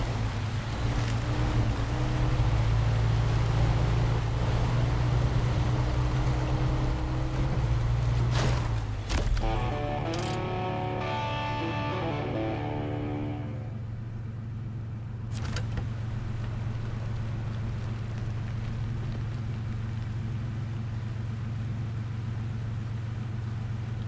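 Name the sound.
truck engine in video game SnowRunner, Longhorn Predator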